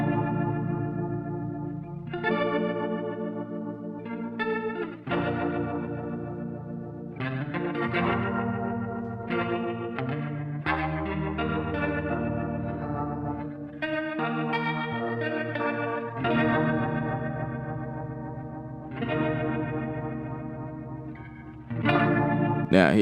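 Stock DAW instrument sounds from a beat-making session play a chord progression with chorus, distortion and echo effects applied, steady layered tones changing every couple of seconds with no melody, alone without talk.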